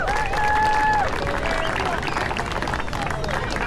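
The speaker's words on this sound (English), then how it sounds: "Let's give everyone a round of applause." A crowd claps at an outdoor beach menorah Hanukkah celebration, a broad wash of applause with a few voices and a brief whistle-like tone early on.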